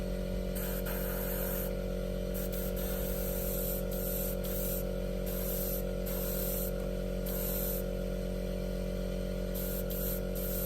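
Hairspray used as chipping fluid hisses from an aerosol can onto a model F4U-1A Corsair aircraft, a steady close spray with brief pauses and renewed bursts, no talking.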